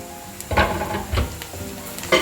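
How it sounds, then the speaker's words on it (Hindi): Onions fry lightly in a home kitchen pan with potato, giving a soft continuous sizzle broken by a few stirring scrapes, close up. "बस प्याज हल्के हल्के से ही भूनने हैं"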